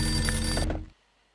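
A telephone rings in the Max Payne video game, one loud, close electronic ring lasting under a second before cutting off abruptly to near silence.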